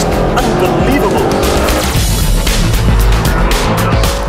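Mercedes-Benz SLS AMG engine roaring hard through a corner with tires squealing and skidding, loud and close, a continuous dense mix of motor and rubber noise throughout.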